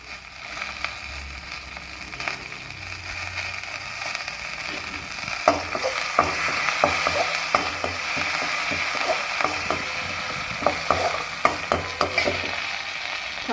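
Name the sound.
mustard seeds, urad dal and chana dal frying in a kadai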